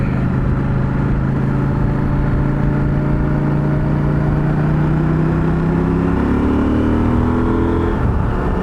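Adventure motorcycle accelerating up to 100, a loud continuous engine drone whose pitch climbs through the gears, heard close and steady with no voices.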